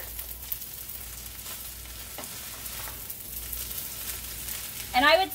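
Chicken fried rice sizzles steadily in a hot pan as it gets stirred, with faint scraping under the constant hiss and a short, louder burst near the end.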